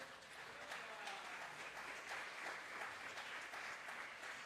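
A church congregation claps for the Lord during a sermon, a steady, sustained wash of applause from many hands.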